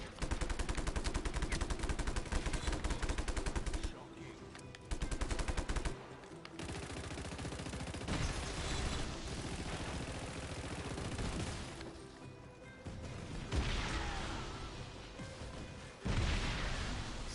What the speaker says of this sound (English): So many explosions.